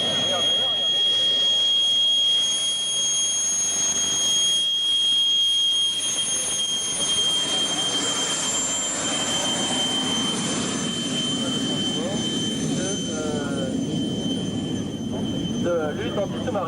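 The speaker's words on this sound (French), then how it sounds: "le sifflement que vous entendez, c'est le Fouga Magistère" A Fouga Magister jet at a 1993 air show at Cambrai air base 103, its small engine giving a high, steady whistle over a broad roar, heard amid crowd noise and a voice talking.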